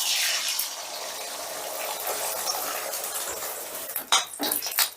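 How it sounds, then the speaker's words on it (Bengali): Beaten egg goes into hot mustard oil in a pan over a medium gas flame, setting off a loud sizzling hiss that gradually settles, followed by a few utensil clatters near the end. "এবারে দিয়ে দিচ্ছি ডিমের গোলাটা।"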